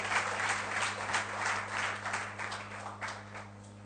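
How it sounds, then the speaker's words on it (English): Applause from the audience at a book launch, a soft, steady wash of many hands clapping at a moderate distance over a faint electrical hum. "Let's all give a big round of applause to Gunjan Jain, the enterprising author of She Walks, She L"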